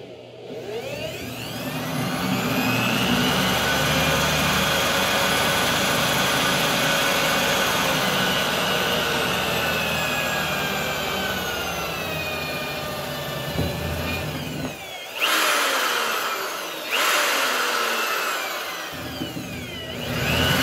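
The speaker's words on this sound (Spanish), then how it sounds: "Una pausa para buscar un taladro y realizarlo." An electric drill bores a hole while the work is set on a desk, a sustained whining motor drone with a slight pitch drift that runs for about fifteen seconds, then stops and restarts in two short bursts.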